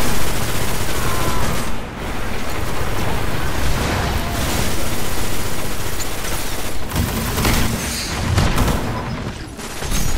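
Shotgun blasts in the video game Destiny during a zone-capture match, dense and continuous booming fire with a thick rumbling roar that barely lets up, loud and close throughout.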